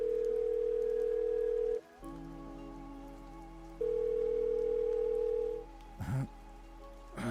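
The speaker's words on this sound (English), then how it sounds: "and the phone was ringing." Phone ringback tone on an outgoing call, a steady electronic tone that sounds, pauses, then sounds again, with faint background hiss and a brief clatter near the end.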